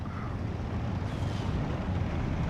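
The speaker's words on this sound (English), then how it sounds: "the mortars are actually doing a pretty good job slowing down" Mortar fire in the war game Steel Division 2, a dense rumbling wash of distant explosions and artillery booms that rolls on steadily without a break.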